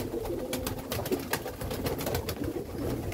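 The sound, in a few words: pigeons cooing as they come to feed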